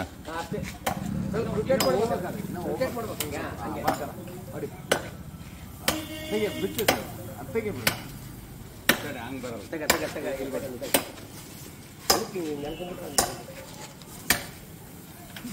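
Hard neem tree branches being cut during a tree trimming job, with sharp chopping strikes landing at a roughly steady pace, several seconds apart, under ongoing outdoor talk from nearby workers.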